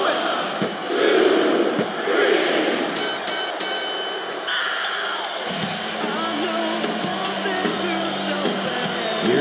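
Arena crowd in the wrestling game WWE SmackDown! vs. RAW 2007, a dense roar of shouting and cheering that holds steady throughout, with impacts and a commentator's voice over it.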